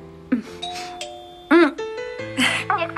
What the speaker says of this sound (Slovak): Niekto zvoní.